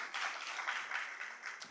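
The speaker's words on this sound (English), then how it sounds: "Yeah, please, round of applause." Audience applause at a graduation ceremony, a steady wash of many hands clapping at moderate distance, fading slightly toward the end.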